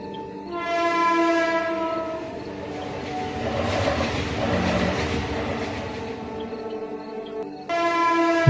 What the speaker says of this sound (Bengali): স্টেশনে অপেক্ষা করতে করতে 10 মিনিট পর ট্রেন ঢুকে যায়।